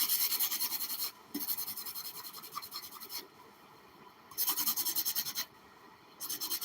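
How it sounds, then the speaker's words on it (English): A sanding block rasps against an antique 1900s German doll in steady scratchy strokes, with several bursts of rubbing separated by brief pauses, close and fairly quiet. "And we are going to finish up the sanding."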